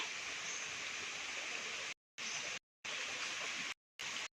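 Small stream of water running through a rubber plantation, a steady broadband rush and trickle heard close up, alone without voices, cut by several short gaps.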